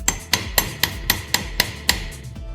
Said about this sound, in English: I'm just using a normal claw hammer because it's one of the lightest hammers I have.